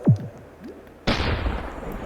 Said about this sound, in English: if you hear some explosion noises from that direction,